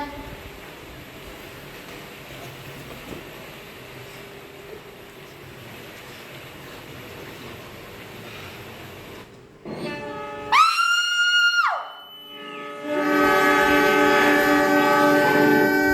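A train horn blares loudly in a long sustained blast, followed by the rumbling roar of a train close by, after a stretch of low background noise.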